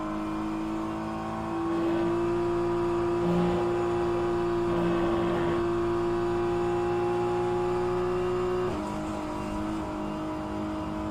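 Race car engine in rFactor 2 at Road America endurance practice holds a loud steady whine, then drops sharply as it shifts down near the end, close-up with no talking.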